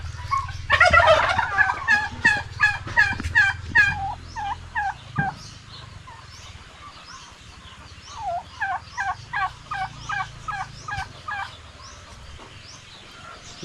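A flock of farm turkeys gobbling in rapid, overlapping bursts, loud at first, then fading, with a second round of gobbles near the end over a low rumble.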